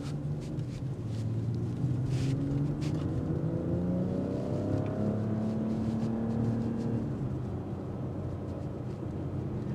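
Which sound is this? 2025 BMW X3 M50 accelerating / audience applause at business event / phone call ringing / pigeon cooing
2025 BMW X3 M50 accelerating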